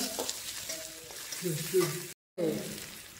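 Drumstick leaves (sojana saag) fry in a pan with a steady close sizzle and stirring scrapes, while a voice talks over it.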